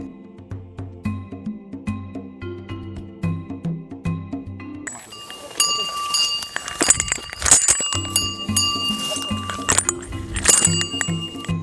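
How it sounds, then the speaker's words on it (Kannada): An elephant's metal bell clanks repeatedly in an irregular rhythm in a forest, ringing out clearly, with rustling and thuds joining as it moves nearer. "ಅಗೋ ಆ ಕಡೆಯಿಂದ ಗಂಟೆಯ ಸದ್ದು ಕೇಳಿಸಿಯೇ ಬಿಟ್ಟಿತು"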